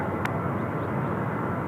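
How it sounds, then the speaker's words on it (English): A Jin Air airliner on its takeoff roll at Incheon Airport, heard as a broad, steady engine roar from some distance that holds level throughout, with no voices. "Jinair 207 now on the roll for Tokyo Narita."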